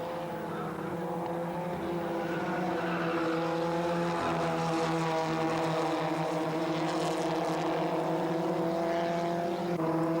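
Formula Ford single-seater race cars at a South African circuit, engines droning steadily and loudly throughout with sustained rising and falling pitch as the cars pass, no talk over it.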